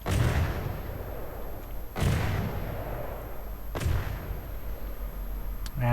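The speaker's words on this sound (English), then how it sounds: "our smaller, simple weapons should get a chance to fire now" Naval guns fire in the video game From the Depths, three heavy booming shots spaced about two seconds apart, each a loud blast trailing into a rumbling decay, with a faint high tone running underneath throughout.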